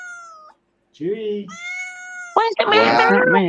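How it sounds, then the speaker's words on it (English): A cat meows several times in a home setting, loud and close, with short and drawn-out calls mixed with people talking. "So where's the cat come from?"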